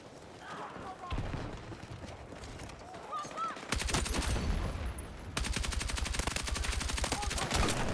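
SG 553R rifle fire in Battlefield 6, scattered shots and clatter giving way to long rapid automatic bursts, loud and close, with a voice talking over the start.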